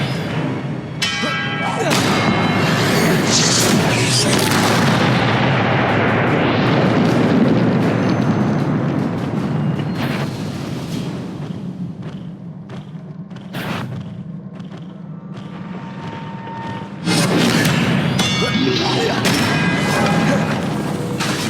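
Confringo blasting spell explosions in Hogwarts Legacy on PS4, loud booming blasts with long rumbling tails that sustain and swell, a fresh burst striking near the end, with little talk.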